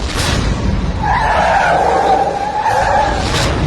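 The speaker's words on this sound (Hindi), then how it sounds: "ब्रेक लगानी पड़ी।" A car brakes hard and its tires skid with a loud, sustained squeal that rises and holds for a few seconds over road rumble, with no voices.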